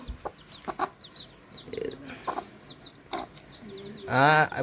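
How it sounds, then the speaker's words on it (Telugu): A hen clucks in short, scattered calls between quiet gaps, ending with a louder burst of clucking. Faint voices can be heard in the background. "ఈ వేరే కోళ్ళు అయితే తెగ పొడుతాయి కానీ ఈ కోడి మాత్రం పొడవదు అంత మంచి కోడి ఇది"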